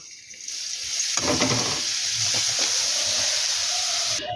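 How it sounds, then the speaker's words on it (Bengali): Grated carrot frying in oil and ghee over a medium-to-high flame, a loud sizzle bursting up as it hits the pan, then a steady hiss with stirring scrapes. "মিডিয়াম টু হাই ফ্লেমেই গাজরটাকে বেশ ভালো করে ভেজে নিতে হবে"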